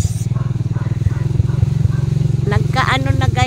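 Motorcycle engine idling and running with a steady low throbbing pulse on a muddy farm-to-market road, while a person talks over it near the end.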